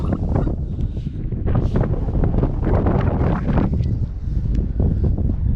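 Cold wind on the Cadair Fawr summit in the central Brecon Beacons buffets the microphone in a continuous loud, gusty roar with no voices.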